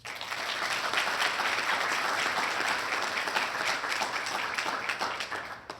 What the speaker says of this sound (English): So one more round of applause for our training division.